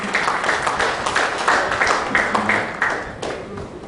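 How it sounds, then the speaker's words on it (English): Summit audience applauding the speakers after a session on information technology, a sustained patter of many hands with slight swells, close and continuous, no talk on top. "A round of applause for our speakers, please."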